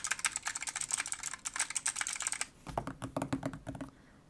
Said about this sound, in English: This is me making some noise, so just doing some typing and things